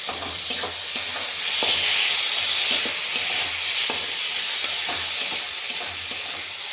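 Chopped onions with green chillies sizzle steadily in a hot pan of oil, with occasional soft stirring clicks, close and continuous with no voices.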